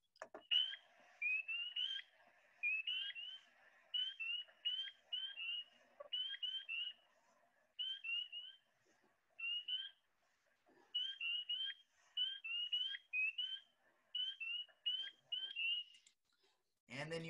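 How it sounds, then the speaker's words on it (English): A spring peeper calls repeatedly, a faint, high, rising whistled peep repeated in quick bursts with short pauses between, set against near silence. "let's go ahead and listen to a spring peeper"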